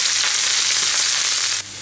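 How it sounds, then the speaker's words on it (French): Garlic and small vegetables sizzle steadily in olive oil, a dense, close hiss with no voices, easing slightly near the end. "je vais mettre de l'ail dans de l'huile d'olive avec quelques petits légumes"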